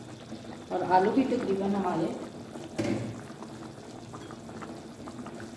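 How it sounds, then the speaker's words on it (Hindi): Water boils in a covered pot of potatoes for aloo tahari, a steady close bubbling that carries under a woman's speech throughout. "पानी बॉईल हो रहा है"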